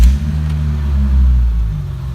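A BMW E30 engine idles with a bad muffler, giving a deep, throaty low rumble that stays steady and loud, swelling slightly midway with no talk.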